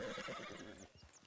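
A horse whinnies in Red Dead Redemption 2, one shrill neigh that wavers and drops over about a second, close and loud, with a faint clop of hooves near the end.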